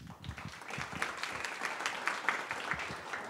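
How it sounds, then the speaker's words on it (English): Audience applause welcoming guests to a leadership panel discussion, a steady, moderately faint patter of many hands clapping in a room, with a few voices underneath. "give a round of applause for them"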